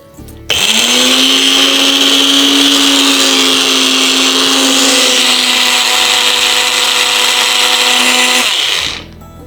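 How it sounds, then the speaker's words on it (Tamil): A mixer grinder blending neem leaves with curd: the motor kicks in abruptly, whirs loudly and evenly for about eight seconds, then winds down and stops. "இப்போ மிக்சியில் இட்டு அரைக்க போகிறோம்"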